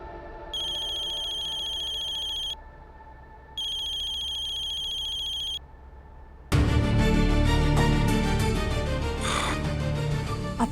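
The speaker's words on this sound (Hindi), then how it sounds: "अब क्यों फोन कर रहा है मुझे?" A telephone ringtone sounds in two long, steady electronic bursts separated by a short pause, clear and close, followed by a sudden loud swell of dramatic background music.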